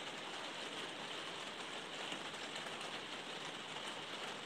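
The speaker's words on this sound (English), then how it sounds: "Yeah, the rain." Steady rain falls on a surface in a dense, even hiss with no pauses, moderately faint and continuous throughout.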